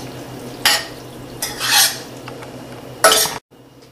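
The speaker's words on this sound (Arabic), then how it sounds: "على طول وهي سخنة بحطها فوق الصوص وبحركهم مع بعض شوي شوي لحد ما يتجانسوا مع بعض" Hot cooked macaroni is folded into béchamel sauce for pastitsio. A utensil gives several short scraping swishes in a pot, with quiet pauses between them, ending abruptly.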